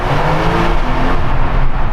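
A Porsche 911 Turbo S accelerates through a tunnel, a loud, continuous engine roar with echoing tyre and road noise building steadily over two seconds.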